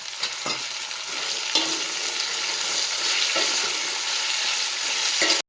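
Tomatoes sizzle and fry in a pan while cooking majjiga pulusu, a bright continuous hiss broken by a few scraping stir strokes, close and fairly loud, with no talking.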